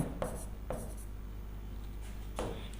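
Chalk or marker writing on a board during a kinematics physics lesson, with a few short scratchy strokes spaced apart over a steady room hum, fairly faint and without talk.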